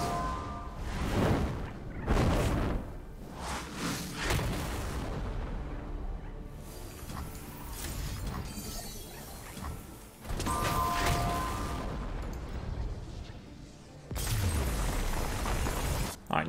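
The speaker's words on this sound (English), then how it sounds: "Now we're just gonna play the death rockets and end the game." Death rockets exploding in the card game Path of Champions, a run of loud booming blasts and whooshing impacts with bursts around the middle and end, layered over game music with no talk.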